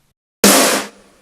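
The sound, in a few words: 80s rock snare drum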